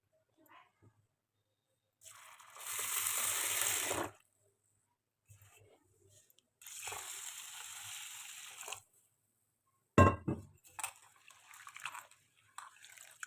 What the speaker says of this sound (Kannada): ಇದಕ್ಕೆ ನೀರು ಹಾಕ್ಕೊಳ್ತೀನಿ.